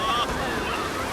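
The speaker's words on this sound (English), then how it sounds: "Waterfall on that side" Rushing water from a waterfall beside a river rapids ride in Planet Coaster 2, a steady broadband wash heard close and continuous, with a voice talking over it.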